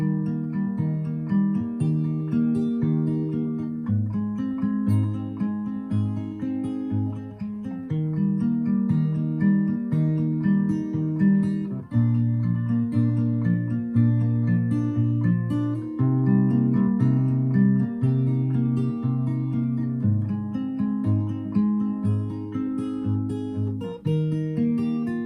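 Fingerstyle acoustic guitar plays the chord part of Coldplay's Fix You, a steady picked pattern of bass notes and arpeggiated chords repeating through changing harmonies, close and clear with no talking.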